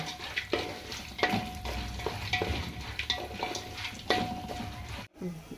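Coconut and dried red chillies fry in hot oil in a pan while a spoon stirs them, giving a steady close sizzle broken by regular scraping strokes against the pan and a few soft clinks.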